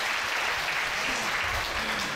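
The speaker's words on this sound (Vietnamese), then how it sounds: "Chúng ta chào đón cha một tràng vỗ tay tất cả mọi người ạ." An audience at a Catholic youth gathering claps to welcome a priest, a continuous dense round of applause that stays loud for the whole stretch.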